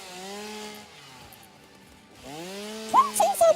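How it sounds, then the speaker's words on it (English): The chainsaw in the Satisfactory video game runs with a loud whining engine, drops briefly to a lower idle, then revs back up with sharp rising bursts, heard alone without talk. "you are using a chainsaw"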